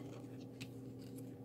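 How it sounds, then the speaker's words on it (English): Scissors snipping through paper pieces taped together for a shaker card, a few crisp cuts over a steady low room hum, close and fairly soft. "So I cut that out"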